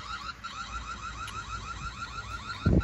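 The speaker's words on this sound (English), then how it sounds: "Got a little alarm system going off." An alarm system sounds outdoors near a greenhouse at a Baltimore plant business, its repeating electronic warble steady and continuous with a brief low thump near the end.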